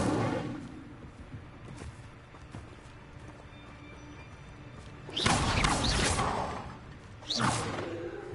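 Incendio fire spell cast in Hogwarts Legacy, heard as two loud whooshing bursts of flame separated by a couple of seconds over quiet game ambience.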